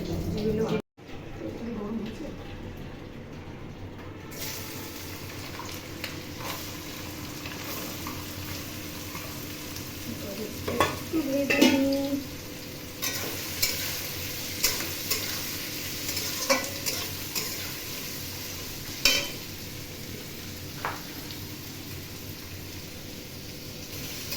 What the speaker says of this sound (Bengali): এবার কড়াইতে তেল দিয়ে চলো সবজিগুলো ভেজে নিই